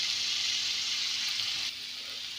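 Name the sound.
boiled potatoes frying with chili powder added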